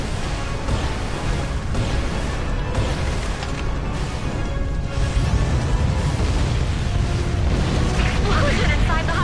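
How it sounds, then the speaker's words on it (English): The alien Hivecraft blows up from the inside in the video game Earth Defense Force: Iron Rain, a loud, sustained rumbling roar of explosions and crashing debris that fills the whole stretch, with voices talking over it. "Explosion inside the Hivecraft."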